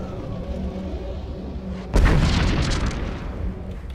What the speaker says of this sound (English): Missile cache destroyed.